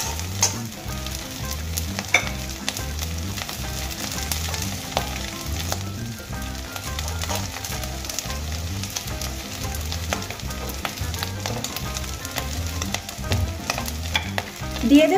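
Prawn heads frying in a pan with coconut pieces, a steady loud sizzle with rhythmic stirring and scraping throughout, no voices.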